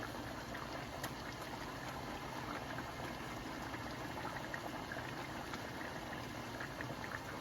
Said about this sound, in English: So I'm adding the cod and the shrimp.